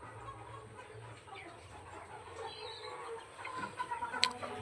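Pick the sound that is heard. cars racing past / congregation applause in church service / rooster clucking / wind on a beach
rooster clucking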